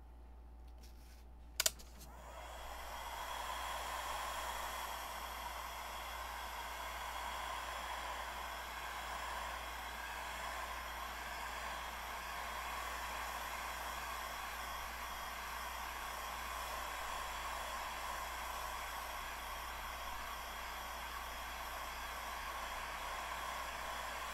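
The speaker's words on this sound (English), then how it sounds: "let's heat this with the heat gun and see what happens" A heat gun blowing hot air, starting after a sharp click and then running as a continuous, even, breathy roar that holds steady and fairly loud for over twenty seconds.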